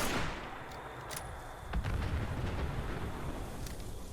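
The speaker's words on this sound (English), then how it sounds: "I'm shooting the van the entire time" Gunfire from a Fallout 76 battle, aimed at a van in the wasteland; a steady, dense crackle of shots with sharper cracks standing out, rolling on without a break for the whole stretch.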